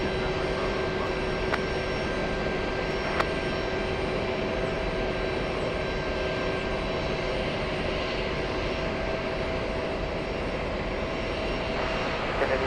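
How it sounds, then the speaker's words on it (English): JetBlue jet airliner landing at JFK after a flight from London, a steady, continuous engine roar with faint tonal whine, sustained and fairly loud from start to finish with no talk. "We have a blue JetBlue landing right now"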